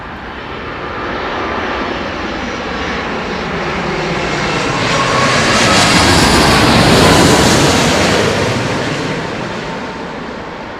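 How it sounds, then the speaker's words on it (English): A Royal Brunei Airlines jet passes at London Heathrow, its loud roar building steadily, peaking near the middle and slowly fading, with no voices over it. "No, this is the Royal Brunei jet."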